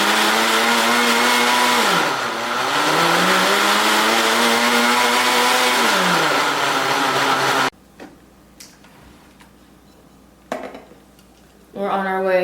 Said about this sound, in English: I'm literally just gonna use the rest of the pack to make a smoothie